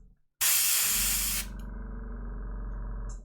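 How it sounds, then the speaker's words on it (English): A close aerosol spray bursts out in a loud, steady hiss for about a second over a miniature model, then drops to a quieter continuous rushing tail. "We spray with this."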